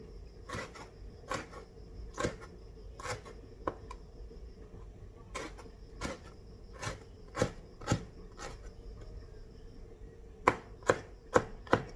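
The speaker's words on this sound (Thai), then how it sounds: "หั่นพอดีครับครับ" A knife strikes a cutting board chopping pork in irregular sharp chops, some in quick bursts, with a faint tonal hum underneath.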